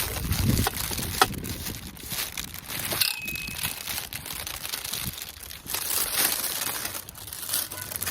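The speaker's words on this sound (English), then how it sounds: "That's the bag ripped" Plastic packaging bag from a greenhouse kit being ripped open and crinkled by hand, a continuous close rustling and crackling with sharp tearing bursts, heard alone without talk.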